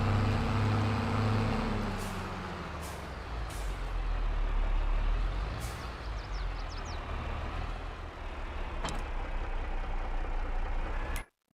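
A tractor in Farming Simulator 22 drives with a steady, heavy diesel drone and low rumble, loud and close, joined by an occasional hiss and a short clank before the sound cuts off abruptly.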